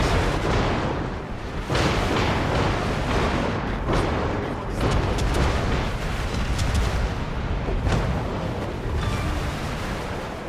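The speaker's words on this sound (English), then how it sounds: "And there it goes, getting blown up." An enemy destroyer blows up in a naval video game battle near Cataluña, heard as continuous loud, booming explosions and rumbling blasts with repeated impacts, no speech.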